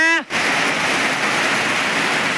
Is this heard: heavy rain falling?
yes